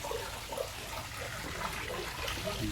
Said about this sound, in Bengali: এখানে একটা কৃত্রিম ঝর্ণা আছে ঝর্ণা থেকে পানি পড়ছে